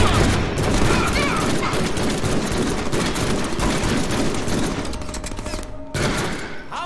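Heavy gunfire in the Deadpool video game, rapid continuous bursts and booming shots that run without pause for several seconds before a brief break and one more burst, loud and close.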